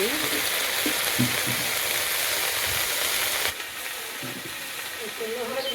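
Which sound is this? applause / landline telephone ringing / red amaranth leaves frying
red amaranth leaves frying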